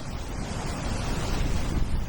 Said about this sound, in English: Just watching the waves, trying to time them.